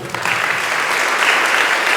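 An audience in a church setting bursts into loud, dense applause, clapping close and continuous for a couple of seconds.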